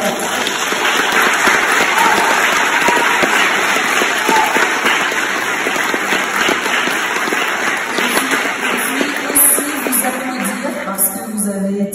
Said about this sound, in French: Donc vous pouvez applaudir cette équipe qui a fait un super travail.